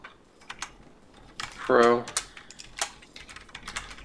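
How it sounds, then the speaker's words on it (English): Someone types on a computer keyboard, scattered close clicks and taps, a quick run of keystrokes, amid quiet room tone while a person talks over it. "Press enter and type in GoPro"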